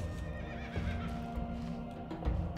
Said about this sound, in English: Oh hey, it's horses and they're not even behaving strangely.